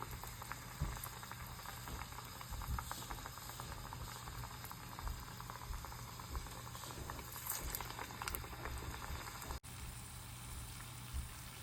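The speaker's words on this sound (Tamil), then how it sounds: "இதில் சின்ன சின்ன வடையாக நம்ம இப்படி போட்டு எடுத்துக்கலாம்" Small moth bean vadai frying in a pan of hot oil, a steady dense bubbling crackle with fine spattering pops that runs unbroken and fairly loud.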